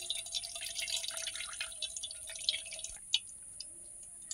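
Juice from finely ground cucumber paste being squeezed and strained, falling in steady soft drips and trickles close by, with a few sharper drops near the end.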